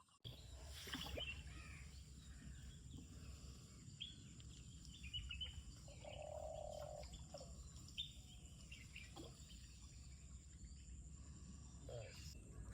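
Birds chirp and call at intervals in mangroves over a steady outdoor hum, with one sustained whistling note midway; the calls are moderately distant.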